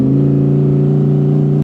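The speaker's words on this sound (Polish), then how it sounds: "za szybą jest V10 i w kabinie słychać je idealnie. Słychać też na przykład przepustnicę jak naciskamy gaz." The V10 of an Audi R8 Coupe 5.2 V10 Performance RWD holds a loud, steady, strongly tonal drone from inside the cabin, close and smooth, then cuts off abruptly near the end.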